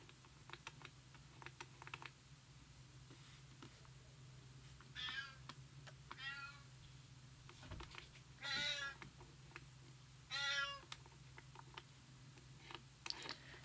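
A cat meows four times at a few seconds' spacing, clear and fairly close, over a low steady hum with soft keyboard typing clicks scattered throughout the background.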